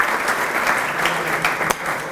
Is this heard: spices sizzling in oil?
no